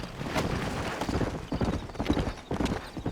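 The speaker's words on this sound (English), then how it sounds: "You ain't gonna find sturdier horses than these in all of New Ulster." Horse hooves clip-clopping in the Red Dead Redemption video game, a steady run of close hoofbeats with a soft whinny, no talk over it.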